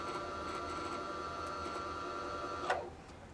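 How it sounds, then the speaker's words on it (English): A Brother PS500 sewing machine winds a bobbin with a steady, close motor whir and whine that runs evenly, then cuts off as the full bobbin stops the winding. "Once my bobbin is full, the machine will actually stop winding for me."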